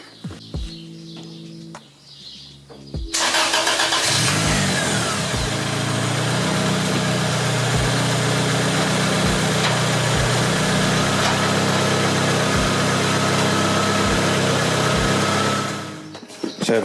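A rebuilt Toyota 4AGTE turbocharged engine for an AE86 fires up after a few seconds of quiet and runs loud and rattly, with a steady rough idle and regular knocking pulses continuing until it cuts off near the end.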